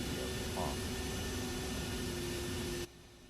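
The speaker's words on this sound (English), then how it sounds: "Idle the engine for 3 minutes for proper cooling." An F-104C jet engine idling in the DCS flight simulator, a steady, loud broadband roar with a faint whine that holds constant, then cuts to a much quieter hum near the end.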